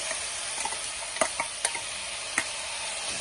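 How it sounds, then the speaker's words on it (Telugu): A spoon stirs a cooked eggplant curry after ginger and green chili paste is added, with steady soft sizzling and a few light clicks of the utensil against the pan, close and alone. "ఇందులో వేసి బాగా కలిపేసుకోవాలి"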